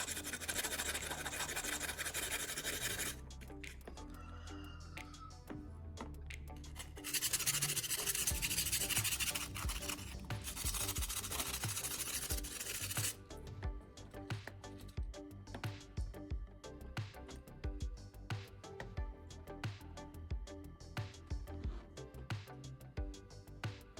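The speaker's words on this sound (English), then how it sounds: "I'm using a piece of sandpaper to scrub off any stubborn remnants of rust and smooth the surface" Sandpaper scrubs rust from a metal drill bit in bursts of close, dry rubbing, with louder stretches alternating with quieter gaps and small handling scrapes.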